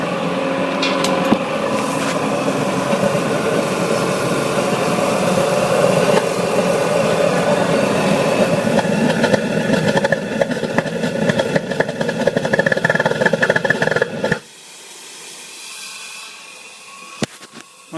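A homemade waste oil burner runs on plain diesel with a loud, steady roaring rumble and hiss, then drops suddenly to a much quieter low murmur for the final few seconds.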